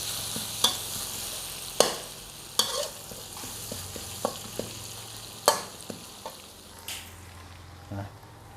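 Chili and garlic stir-fry in a hot pan with a constant background sizzle, broken by about eight distinct spatula scrapes and clanks spaced irregularly across the clip.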